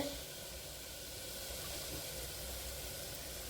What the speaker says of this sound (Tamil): பார்த்திங்கன்னா உலக கொதிச்சிருச்சு. தண்ணி கொதிச்சிருச்சு.